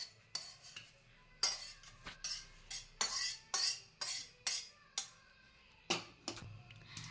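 A metal spoon scrapes and clinks against a pan and bowl as fried cashew and almond slices are scooped out, a dozen sharp, irregular clinks close by with quiet gaps between.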